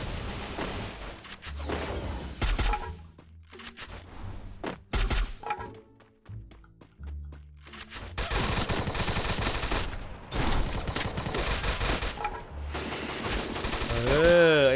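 Palafal rifle with the Lore Cyclone skin firing in the Free Fire mobile game: loud, rapid bursts of gunfire broken by short pauses, then near-continuous shooting through the last half, with game effects around it.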